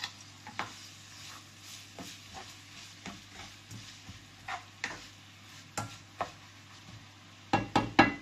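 Onion and garlic go into a heated pan for chicken pakbet, producing a quiet, low sizzle broken by intermittent stirring clicks and taps.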